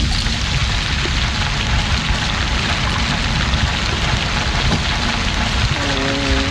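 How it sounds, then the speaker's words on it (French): Steady rain falls in a dense, even hiss of drops on a surface, loud and continuous throughout. "Ouais, c'était la pluie."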